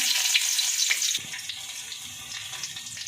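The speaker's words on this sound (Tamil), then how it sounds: "எண்ணெய் சேர்த்துக்கலாங்க பொடியாக கட் பண்ணி வச்ச பூண்டு சேர்த்துக்கலாங்க" Chopped garlic goes into hot oil and sizzles in a steady hiss, with a sharper, louder burst at the start that settles into continuous close frying while making a pasta dish.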